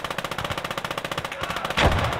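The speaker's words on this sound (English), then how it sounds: "There we go, MG's going to start ripping." A German MG34 machine gun in the game Gates of Hell fires a long, rapid burst of evenly spaced shots, loud and close, ending in a heavier blast near the end.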